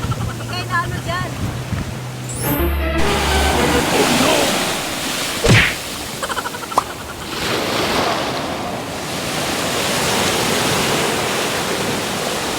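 Ocean waves surge and crash on Unawatuna beach in a loud, continuous wash with wind buffeting the microphone, with brief clicks and knocks partway through and people speaking now and then.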